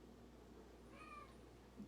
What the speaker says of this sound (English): now he does this plaintive meow like he's lonely